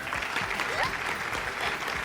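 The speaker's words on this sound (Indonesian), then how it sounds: "udah cukup ya, tepuk tangan dulu dong." Audience applause at a children's singing competition stage show, a steady wash of clapping sustained through the short stretch, with a faint voice or two mixed in underneath.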